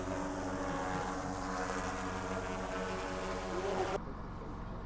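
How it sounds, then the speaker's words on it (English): A steady, buzzing motor drone of a drone flying overhead near cows hums continuously at moderate volume, its tone holding level before dropping off near the end; a faint voice appears briefly. "This is where the drone's flying."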